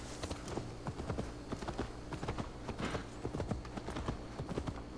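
Horse hooves gallop in Assassin's Creed Valhalla, a quick, steady clip-clop rhythm that runs the whole way through, soft and slightly distant over a low background hum.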